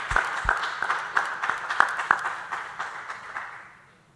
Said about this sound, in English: Give them a round of applause if you don't mind.